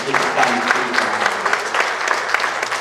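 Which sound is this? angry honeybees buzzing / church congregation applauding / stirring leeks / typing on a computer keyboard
church congregation applauding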